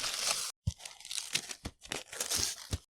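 A large cardboard snack box being torn open by hand: loud, close ripping and crinkling in several quick bursts, with a brief pause after the first long tear, heard alone.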